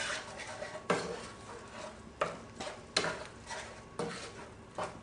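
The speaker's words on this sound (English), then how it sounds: "add the egg, mix it well, and I'm going to add the breadcrumbs" Egg and breadcrumbs mixed into a squash stuffing in a bowl, heard as repeated scraping, clinking strokes of a utensil against the bowl, with a sharp knock every second or so amid softer stirring.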